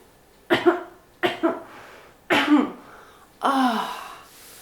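Four harsh coughs in sequence, close and loud, the first two in quick pairs, with short quiet gaps between them and no talking.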